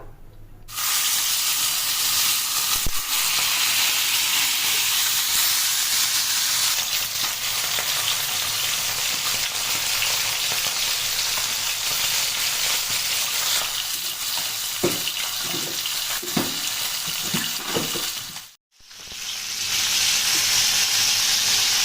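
Fish frying in a frying pan for a coconut fish dish, a loud, close, continuous hiss and sizzle that runs almost without a break, with some scattered clatter near the end and a brief drop before it resumes.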